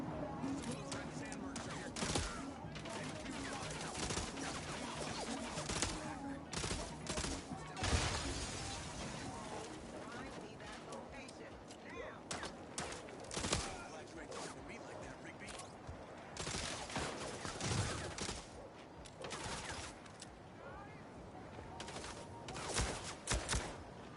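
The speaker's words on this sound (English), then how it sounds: "Excuse my terrible shooting" Rapid bursts of gunfire from a shooting sequence against enemies in the video game MindsEye, dense and continuous with sharp cracks and crashes layered throughout, with a voice talking intermittently over the shots.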